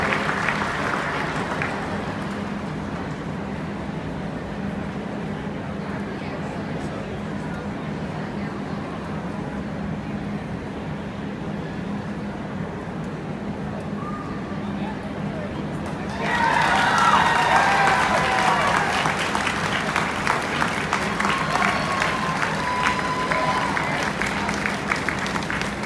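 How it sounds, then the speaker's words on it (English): Applause from a dairy show crowd at the Iowa State Fair swells into louder, denser clapping in the latter part, following a stretch of quieter background murmur with voices. "So let's give these exhibitors a nice round of applause."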